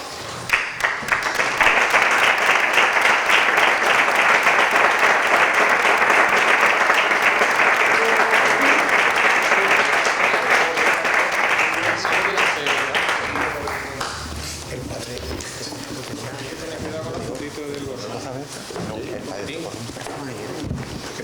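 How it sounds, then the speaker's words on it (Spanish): An audience at a club anniversary gathering breaks into loud, sustained applause, many hands clapping densely for about twelve seconds before the ovation fades to scattered claps and murmuring voices. "como hemos dado tantos aplausos"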